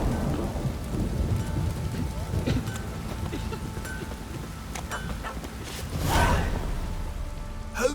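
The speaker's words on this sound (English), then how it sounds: "The storm, damn it." A thunderstorm in The Witcher 3 brings steady rain and low rolling thunder, with a louder rumble swelling near the end, all continuous and fairly close.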